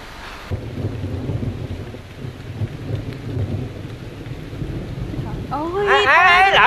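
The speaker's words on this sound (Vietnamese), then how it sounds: "Mưa kìa." Heavy rain pours steadily during a storm, a dense broadband wash with low rumbling underneath, ending in a loud rising swell as a sharp tonal sound cuts in at the close.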